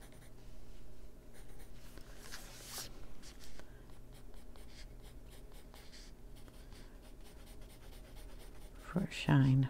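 Pencil strokes scratching across paper while coloring a Distress ink illustration, a steady soft scritching texture with a few brief louder bumps near the end.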